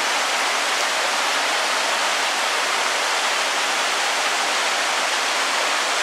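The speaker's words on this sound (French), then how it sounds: "On peut voir là-haut la cascade." A waterfall roars in the open air along a fishing spot in the outdoors, a steady, dense broadband rush of falling water that holds unchanged for the whole stretch with no voices.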